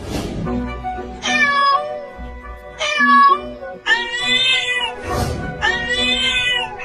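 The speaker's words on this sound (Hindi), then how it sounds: "ये बिल्ली इतना बोल क्यों रही है?" A cat meows loudly and insistently, four drawn-out calls close by, each rising and falling, with brief pauses between them.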